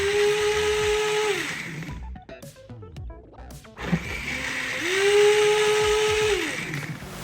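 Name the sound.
Nutr nut milk maker blending almond milk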